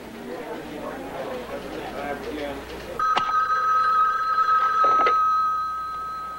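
A telephone bell rings loudly in an office or home setting, a sustained electric ring starting midway after a stretch of talk and background chatter, continuing steadily to the end.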